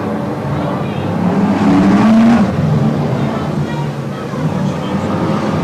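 BriSCA F1 stock cars racing on a track at a 1992 semi-final, engines droning steadily with a rising rev swell midway, while a commentator talks over the noise throughout.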